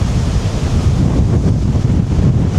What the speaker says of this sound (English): I don't know if you can hear that with the wind whistling through.